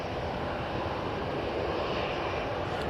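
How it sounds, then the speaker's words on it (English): An EasyJet Airbus A320-200 jet airliner at Manchester Airport gives a steady, fairly loud engine roar that holds evenly throughout, with no voices. "we have this EasyJet A320-200 that's going to be going to Dalaman"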